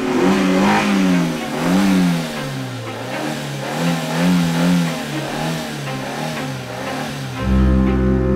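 A car engine revs loudly and close in repeated rising and falling surges, then settles into a steadier, deeper drone at the end.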